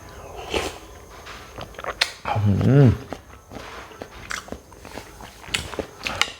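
Crunchy biting and chewing of Thai tub tim krob, crisp water-chestnut rubies in an iced coconut dessert, comes as a few close crunches amid rustling and spoon clatter, with a voice briefly humming along.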